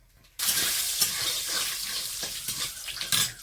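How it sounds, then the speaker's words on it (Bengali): Peanuts and cashews drop into a hot pan for a khichuri and start frying with a sudden sizzling hiss that holds steady for a few seconds, and some faint stirring shows up underneath. "এখন এই বাদাম ভাজা ভাজির পালা কিছু চীনা বাদাম কাজু"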